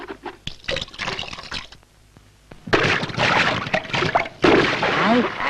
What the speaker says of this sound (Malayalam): ഇങ്ങനെ വെള്ളം കലക്കിയാലോ കുട്ടികളെ